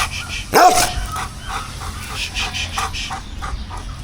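A single loud bark from a big dog rings out at a boarding kennel, followed by quieter background yaps and shuffling nearby.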